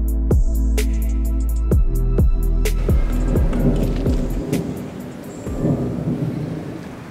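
A thunderstorm with rain in a park: loud rumbling and cracking outdoors, with sharp snapping bursts early on that settle into a broad, rain-like hiss.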